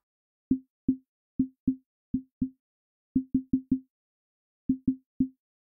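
Low-passed drum hits in FL Studio, reduced to the pitched fundamental: a dry series of thirteen short, soft low thumps in a syncopated rhythmic pattern with silence between.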